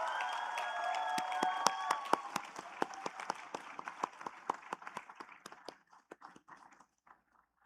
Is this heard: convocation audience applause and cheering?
yes